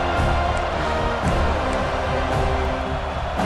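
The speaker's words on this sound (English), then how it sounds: "Man, this crowd really affecting the football game." Dense, steady stadium crowd roar fills a College Football 26 game, Alabama at Florida State, loud and unbroken throughout with no distinct voices rising above it.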